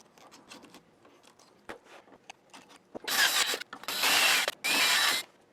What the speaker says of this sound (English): we can go ahead and ream out those other 4 holes